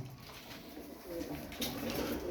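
Domestic pigeons coo in soft, low, rolling calls that build over a couple of seconds, fairly quiet and close, with no talking.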